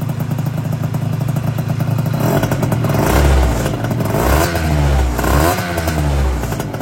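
A new MBK Nitro 70 scooter with its two-stroke engine freshly started, idling steadily up close and then revved hard several times in rising, falling surges, loud and alone.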